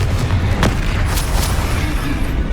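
Confringo fire spell from Hogwarts Legacy blasting with a loud, deep boom and crackling burst, a short explosive hit with sharp pops over rumbling game ambience.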